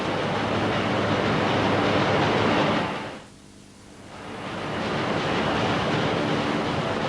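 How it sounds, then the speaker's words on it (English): Molten electrolyte churns and bubbles inside an aluminium smelting cell, a dense, loud roar that dips briefly to a quieter hush midway before swelling back to full strength. "The molten electrolyte bubbles."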